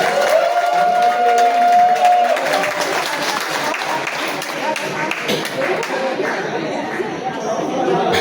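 A church congregation at a Catholic gathering claps warmly for the senior praise team, steady applause with chatter and a held tone fading early, then dense clapping continuing throughout.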